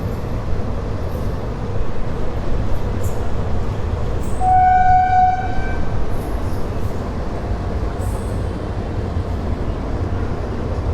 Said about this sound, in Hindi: राजधानी को एक लोकल ट्रेन से क्रॉस कर रहा हूँ।